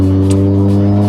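A Mazda RX-7 FD with a single-turbo rotary engine idles or revs in a loud, close, steady burble with a strong low hum, sustained briefly without interruption.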